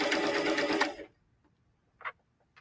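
A sewing machine stitches a sweatshirt in a fast, loud, steady whir for about a second, then stops, leaving near-silence broken by a couple of faint clicks.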